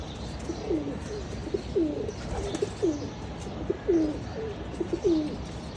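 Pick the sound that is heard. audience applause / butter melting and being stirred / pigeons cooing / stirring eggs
pigeons cooing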